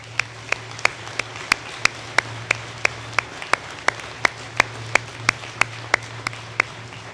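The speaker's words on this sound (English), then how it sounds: "Let's join in another round of applause." Slow, evenly spaced single claps at a military Court of Honor induction ceremony, around twenty sharp hand claps in steady rhythm over a constant low hum, sounding like one person or a small group clapping in unison.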